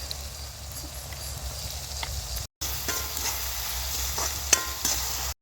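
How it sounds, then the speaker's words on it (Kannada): Onions and green chilies fry in hot oil while being stirred, a steady close sizzle with scraping stir strokes, briefly cut off midway, during a goat blood fry recipe. "ಈಗ ಈರುಳ್ಳಿ ಹಾಕೊಳ್ಳೋಣ. ಹಸಿಮೆಣ್ಸಿಕಾಯಿ ಹಾಕೋತಾ ಇದ್ದೀನಿ."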